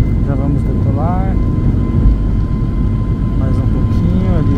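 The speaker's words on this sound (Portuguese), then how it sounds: "Já vamos decolar." An airliner's engines roar steadily and loudly as it takes off from a São Paulo airport at night, a constant cabin rumble with a voice speaking briefly over it.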